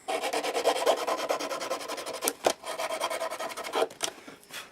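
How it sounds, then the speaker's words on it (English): Sandpaper rubbed back and forth over a small wooden signal box part, a rapid rhythmic rasping close up, with a few sharper knocks of the piece shifting partway through. "Obviously you can sand it down, tidy it up to whatever you want."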